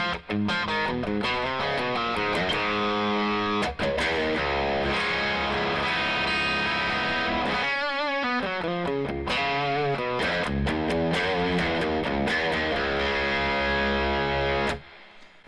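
A distorted electric guitar played through a Fender Princeton Reverb amp with no pedals chugs rhythmic chords with a washy spring reverb tail, loud and steady, pausing briefly midway before picking back up.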